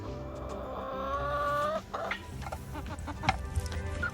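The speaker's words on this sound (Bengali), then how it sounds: "ডিম পেরেছে মুরগি" Backyard hens kept with ducks, one having just laid its first eggs, cluck close by in a steady run of throaty calls over a low outdoor murmur.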